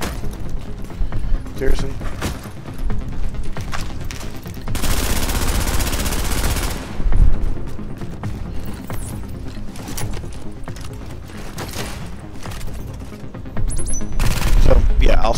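Enemy gunfire in the shooter game The Division 2, at World Tier 5, comes in loud bursts: a dense sustained volley in the middle and another at the end, with someone talking over and between the shots.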